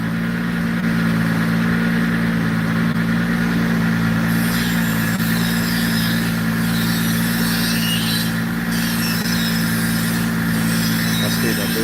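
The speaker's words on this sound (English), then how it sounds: "Sounds so good on the dyno." A boosted car engine runs on a dyno with a turbo spooling, giving a loud, steady, droning roar that holds throughout with a faint hiss up top.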